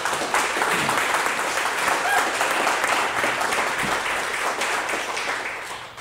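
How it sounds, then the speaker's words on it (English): An audience at a live podcast recording in Seattle's Ballard neighborhood breaks into loud, sustained applause, a dense wash of clapping that holds steady for several seconds before starting to taper off. "Big round of applause for Cory Bergman."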